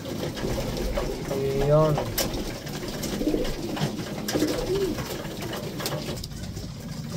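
Domestic pigeons cooing at feeding time, soft repeated coos close by over a busy flock background, with a person speaking briefly.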